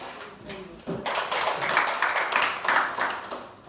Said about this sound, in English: kindly stand up and clap for yourself